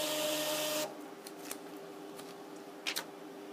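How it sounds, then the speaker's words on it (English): A Toshiba thermal printer on a factory floor prints a barcode label, a steady mechanical whir for almost a second followed by a quieter hum and a few soft clicks and snaps. "is using a Toshiba printer, thermal printer that would be on the factory floor"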